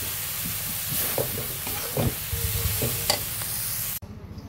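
Leafy greens (shak bhaji) being stir-fried in a pan, with a steady close sizzle broken by scraping stirs and utensil taps. It cuts off abruptly near the end.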